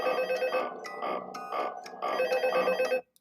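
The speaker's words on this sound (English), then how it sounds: "Alright, got a phone call." A telephone rings in the horror video game Five Nights at Freddy's 2, a loud repeating electronic bell in two bursts with a short gap, stopping abruptly after about three seconds.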